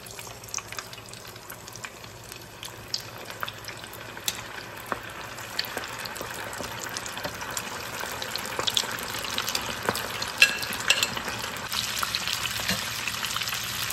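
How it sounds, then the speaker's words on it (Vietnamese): Chicken wings seasoned with steak seasoning deep frying in hot oil, a steady, fairly loud crackling sizzle with scattered pops throughout, with no talk over it. "Bây giờ mình qua bên kia mình chiên."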